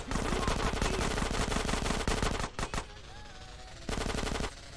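Rapid automatic gunfire in GTA San Andreas Definitive Edition rattles loud and close in a long fast burst, breaks off, and then a second shorter burst follows.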